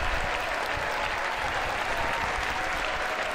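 Steady crowd applause, a dense wash of clapping at moderate level lasting a few seconds with no talk over it.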